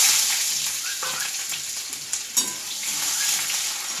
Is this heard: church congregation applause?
no